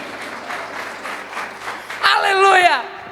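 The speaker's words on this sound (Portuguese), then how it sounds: "Se é para Jesus, aplauda com força." A church congregation claps during a Baptist worship service, a dense steady patter of applause that swells and carries on beneath a loud voice calling out over it in the last second.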